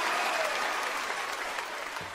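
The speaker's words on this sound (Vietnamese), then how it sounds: "Một tràng pháo tay cho Phương Nhi" A theatre audience at a televised children's folk-singing contest breaks into dense, steady applause that fills the hall, loud and continuous throughout.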